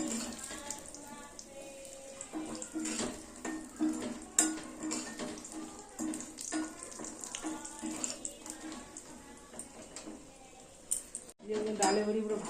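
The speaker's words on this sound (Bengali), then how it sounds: "ডালের বড়িগুলো ভেজে নিই তো ছাকা তেলে ভাজলে ডালের বড়িগুলো ভাজা ভালো হয়" Lentil dumplings (dal bori) fry in a generous amount of oil while being stirred, giving a steady bubbling hiss with occasional clinks and scrapes, and a person talks over it throughout.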